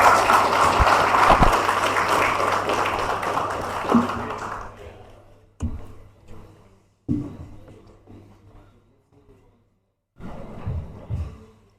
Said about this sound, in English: To the round of applause.